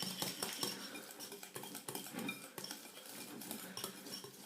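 Softened butter beaten by hand in a bowl for chocolate shortbread, a quick irregular scraping and clinking of utensil against the bowl, close and continuous without talk.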